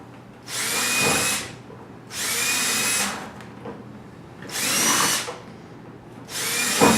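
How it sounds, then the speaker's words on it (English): A grinder thins a metal mouse trap part so it will fit through a hole drilled in the bottom of a pop bottle. Four loud, steady bursts of whining grinding, each lasting about a second, are separated by quieter gaps, with no talking. "We're gonna take it to the grinder and thin it out so it'll fit through the hole that we drilled in the pop bottom."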